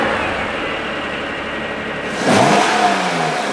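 An early-1990s Honda NSX with an all-aluminum engine block and heads runs at a steady loud drone, then revs up sharply in a rising burst near the end, with no talk.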